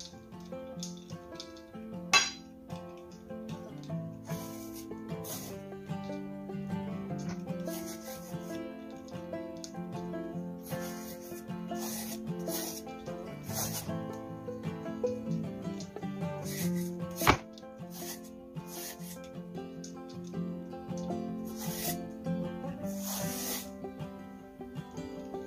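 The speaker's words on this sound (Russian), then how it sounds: "натираем или нарезаем оба эти кабачка" Zucchini being grated or cut by hand for vegetable spaghetti, a steady scraping and rubbing close up with sharp knocks and clinks against a board or dish, quiet overall.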